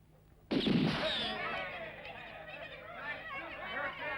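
Gunfire in a spaghetti western film: one loud, close shot or volley bursts out suddenly, then a long rough echo and jumbled noise trail on for several seconds with no talking.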